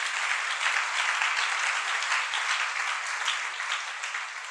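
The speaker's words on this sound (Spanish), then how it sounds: "Dale un aplauso al Señor en esta hora." Steady, dense applause from a church congregation during a Spanish-language service, continuous and fairly loud throughout with no voices rising above it.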